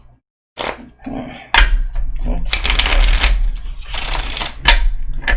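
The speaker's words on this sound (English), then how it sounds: "really shuffling them well" Tarot cards shuffled by hand during a live reading, a few quick riffling and slapping bursts followed by a long, loud rustling run of cards, close to the microphone, with a brief spoken word at the start.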